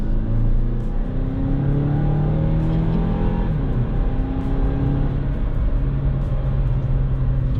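A 2016 Mazda CX-5 Grand Touring pulls hard in second gear, its engine drone steady and close from the cabin, climbing gradually in pitch with a continuous, even roar throughout.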